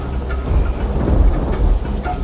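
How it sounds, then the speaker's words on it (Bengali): Heavy rain pours steadily in a cartoon soundtrack, with a low rumbling undertone like distant thunder. "বৃষ্টি হচ্ছে"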